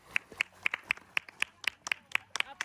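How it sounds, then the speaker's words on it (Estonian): Sparse hand claps at a summer camp demonstration, about a dozen sharp, separate claps in an uneven rhythm, fairly quiet and close, with no crowd behind them. "Aplaus, 10-10."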